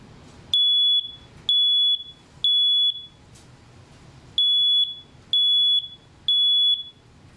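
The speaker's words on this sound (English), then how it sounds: "Smoke detectors likewise sound a warning in the event of a fire." A smoke alarm sounds shrill high beeps, six in total, each about half a second, in two groups of three with short pauses between.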